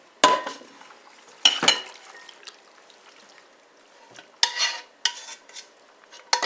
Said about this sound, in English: I have a nice salad bowl here, and I'm going to just put it right in.